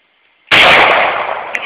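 A single loud M9 pistol shot cracks sharply at close range during target practice at a can, followed by a brief echoing decay outdoors.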